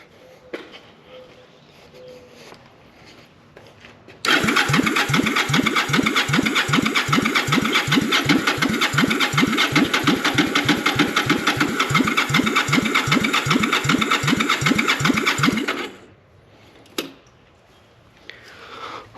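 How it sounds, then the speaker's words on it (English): A bobber motorcycle engine cranks for about eleven seconds in a fast, even, loud chugging rhythm without catching, then stops abruptly. Quiet stretches come before and after. "Let's give it fuel and see if it will start."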